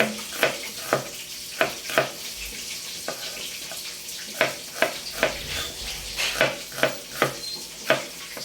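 Garlic and onion sauté in a pan for stir-fried bok choy with tofu, a soft steady sizzle broken by regular scraping and clacking strokes of a spatula, fairly quiet and close.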